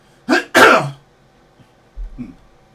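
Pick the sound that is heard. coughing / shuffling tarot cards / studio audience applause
coughing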